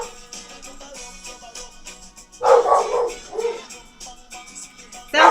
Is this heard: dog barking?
yes